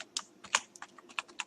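Python code being typed on a computer keyboard: a brisk, uneven patter of close, crisp key clicks with a few sharper taps, no speech.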